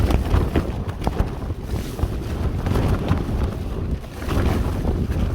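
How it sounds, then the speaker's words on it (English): Gusts of wind above 40 mph batter a Lanshan tent, loud low rumbling and flapping fabric in uneven surges that rise and dip throughout, with no speech. "can really feel the force of that wind against the tent"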